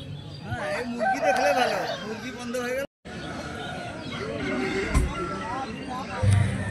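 Roosters crow at a busy chicken market in Faco Hat, where red birds are sold, heard amid loud crowd babble and ongoing talk, with a few clucks mixed in.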